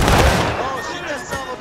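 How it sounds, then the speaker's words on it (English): Muskets fire in a War of Rights nighttime defense of Harper's Ferry, with loud close shots and rumbling echoing volleys while voices shout over the gunfire. "Keep going, keep shooting."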